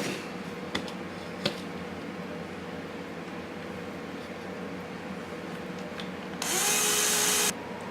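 A power drill bores holes in a QuadLugs 200 Mini+ quadcopter frame, a loud whirring burst of about one second near the end over a steady hum of background noise.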